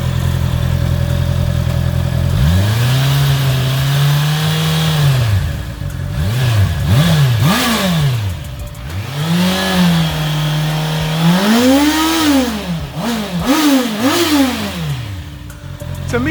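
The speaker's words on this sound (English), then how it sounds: "let me do a couple of revs so you guys can have an idea of what the bike sounds like" Honda CBR650R motorcycle fitted with an Akrapovic exhaust, revved several times from idle: rising and falling engine pitch in repeated throttle blips, loud and close, with no talking.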